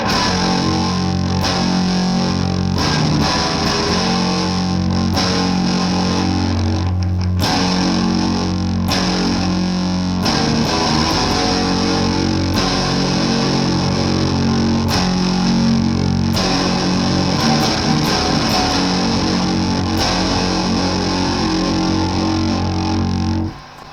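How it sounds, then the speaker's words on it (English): An electric guitar played through a fat drive distortion pedal gives thick, buzzing, heavily overdriven tones, loud and sustained, with repeated strummed chords and held notes and no voices. "This is the fat drive, which sometimes sounds awesome and sometimes just sounds terrible."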